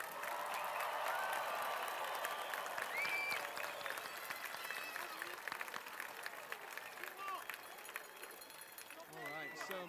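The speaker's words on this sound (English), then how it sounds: "can we give a round of applause to these 2026 graduates?" Graduation ceremony crowd applauding the 2026 graduates, a broad continuous patter of clapping with scattered cheers and voices that gradually thins toward the end.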